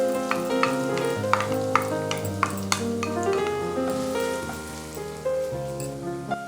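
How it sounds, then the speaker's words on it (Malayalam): Finely chopped onion sautés in a pan for a spinach and mushroom curry, giving a steady close sizzle broken by sharp clicks of stirring, with soft instrumental music underneath. "ഒരു വലിയ സവാള കുഞ്ഞായി നുറുക്കിയത് ഇതിലേക്ക് യോജിപ്പിച്ച് നല്ലോണം വഴറ്റിയെടുക്കും."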